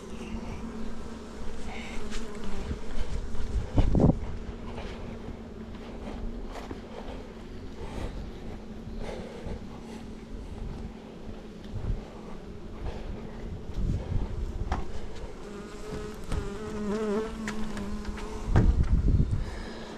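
A steady drone of many honeybees buzzing close by outdoors at an apiary, with wind noise buffeting the microphone now and then.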